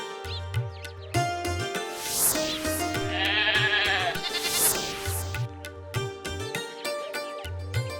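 Goats bleat repeatedly while out grazing, a series of wavering, nasal calls coming close and fairly loud, some overlapping, with brief pauses between bursts.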